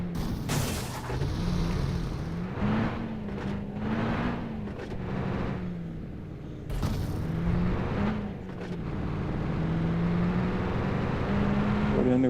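A car driven in the video game PUBG gives a steady engine drone whose pitch rises and falls as it moves, with a few sharp bangs cutting in early and midway.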